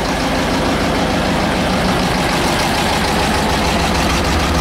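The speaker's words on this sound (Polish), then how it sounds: "Włączam, mamy obroty," An Ursus C tractor engine runs at a steady, loud, close idle, a continuous low chugging throb with no pauses and no voices.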